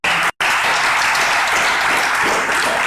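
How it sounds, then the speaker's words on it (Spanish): A church congregation bursts into loud, sustained applause that fills the room for about three seconds, with one brief sudden gap early on, dense clapping throughout and no clear talk. "Denle un aplauso a Cristo Jesús también."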